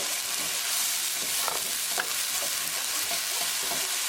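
Onions sizzling and frying in a pan for cod fish curry, stirred steadily with a utensil scraping through them, loud and continuous with no talking.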